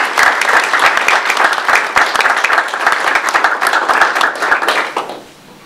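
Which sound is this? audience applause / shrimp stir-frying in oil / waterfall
audience applause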